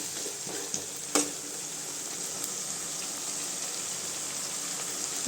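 Eggplant pieces sauté with softened tomato in hot oil for a spicy tamarind curry, giving a steady bright sizzle with a few sharp clacks of a spoon against the pan.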